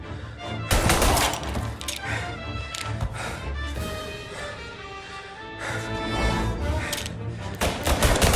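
Dense game gunfire from Mafia: Definitive Edition, loud repeated shots and bursts crackling over a busy music and effects bed throughout, with heavier volleys near the start and end.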